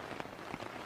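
Rain falling outdoors in Ibadan during hand planting of sweet corn: a soft, steady patter of drops on surfaces, faint and even, with no voices.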